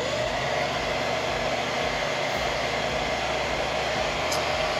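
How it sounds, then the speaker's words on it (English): A blow dryer runs steadily while heating adhesive for a helmet chin mount on a Shoei Neotec II, giving a continuous even whoosh with a low hum underneath, close and unbroken. "I'm gonna fire up the blow dryer here"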